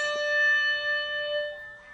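A single struck hand bell rings out with a clear, bright tone that sustains and slowly fades over about two seconds, close and alone.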